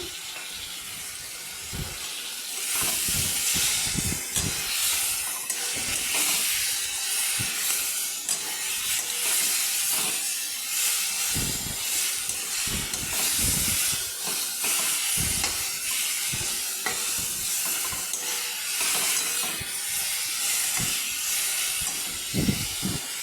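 Ash gourd pieces frying in oil hiss steadily as their water steams off, a loud, continuous sizzle broken by repeated low knocks from stirring, close to the pan with no voices.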